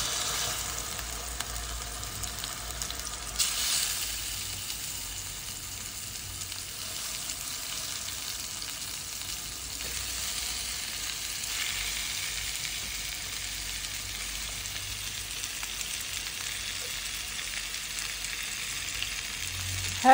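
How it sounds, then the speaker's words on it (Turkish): Chicken sizzles and crackles in hot olive oil in a pot, a steady bright frying hiss that continues evenly and close up for the whole stretch. "Yağ iyice ısındıktan sonra tavukları kızgın yağın içine bırakıyorum."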